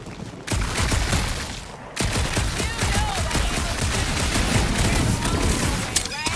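Gunfire in Marvel's Guardians of the Galaxy comes as a loud, dense barrage of rapid shots that keeps going almost without a break, with a brief voice and other game effects mixed in.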